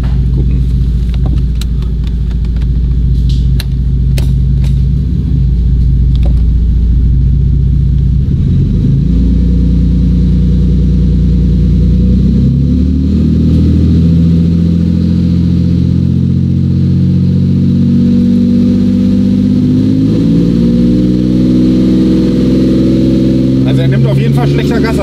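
A Toyota 2JZ engine, restricted in its output, idles low and then climbs through rising revs at full throttle, loud and close, its tone stepping upward in stages, with people talking over it.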